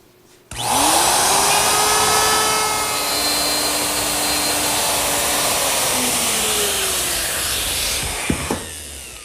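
A router cuts a slot for T-bolts in a wooden router table top, a loud continuous high whine with rough cutting noise lasting most of the clip, close, with a brief clatter near the end.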